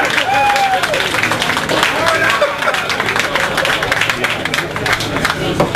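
Audience clapping at a political talk, loud sustained applause with scattered cheers and crowd voices mixed in, close and continuous across the whole moment.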